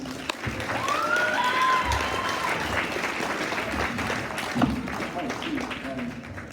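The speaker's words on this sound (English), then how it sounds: "Can we give a big round of applause to the DigiMedia class president, Noah Williams." A gala crowd claps for a class president at a red carpet event, moderate applause running throughout with some background voices and tonal sounds mixed in.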